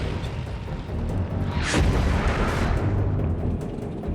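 Tank cannon fire during a desert armored battle, a heavy boom with a hissing burst over a dense, continuous rumble of battle noise, loud and close.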